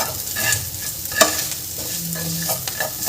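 Chilli powder, salt and other spices for beetroot paratha stuffing sautéed in a little oil in a pan, with a loud, continuous sizzle and scraping stirs and a sharp utensil knock partway through.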